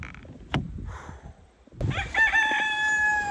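Chickens cluck nearby, then a rooster lets out a loud, drawn-out crow close to the microphone.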